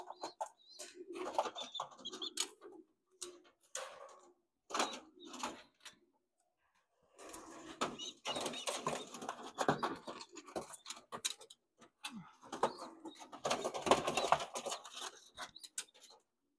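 Racing pigeons in a one-loft race section in Texas, heard as soft intermittent cooing and wing shuffling nearby, with bursts of flapping and movement in a busy loft.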